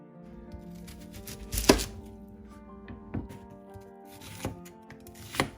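Milkfish (bangus) being chopped into large pieces with a knife on a cutting board, a few distinct heavy thunks spaced irregularly, close and clear with no talking.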